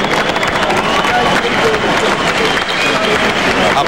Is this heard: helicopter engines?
no